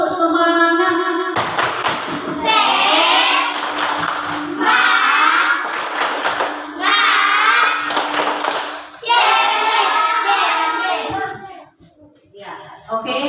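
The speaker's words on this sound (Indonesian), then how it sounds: "ibu mau tahu tepuk semangat dulu" A classroom of children performs the 'tepuk semangat' spirit clap, bursts of rhythmic group clapping mixed with loud children's chanting voices in a close, reverberant room, ending in a brief quieter moment.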